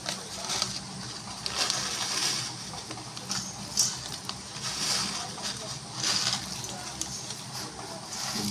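Puffed rice being mixed by hand with boiled potato, chopped onion, salt and oil, making close, crunchy rustling in rhythmic bursts with soft patter between them.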